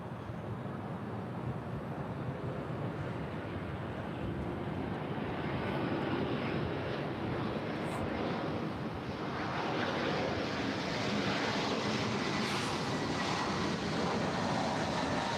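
American Airlines jet at LAX, a steady broad roar of aircraft engines that swells slightly over time, continuous and fairly distant with no talk.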